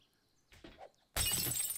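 A glass jar shatters in the 7 Days To Die video game, a sudden bright burst of breaking glass after a few quiet thuds, loud and close, with no speech.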